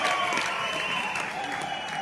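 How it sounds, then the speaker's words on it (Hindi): An audience gives a burst of steady applause for a woman named Sharada at a business success gathering, dense clapping filling the room without pause. "मैं जोरदार तालियां एक बार शारदा जी के लिए"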